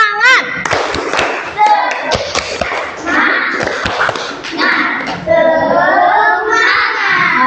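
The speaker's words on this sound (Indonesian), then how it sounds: "Yuk tepuk semangat dulu." A school class doing a rhythmic spirit clap, with bursts of sharp hand claps and thumps in a patterned beat, mixed with children's chanting and a teacher's voice throughout.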